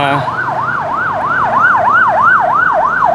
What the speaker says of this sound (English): we have an ambulance coming through